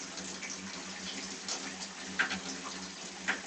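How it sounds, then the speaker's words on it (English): Tap water runs steadily from a faucet while hands are rinsed under it, a soft continuous hiss and splash with a few slightly louder splashes, no talking. "and then using the water to rinse it off."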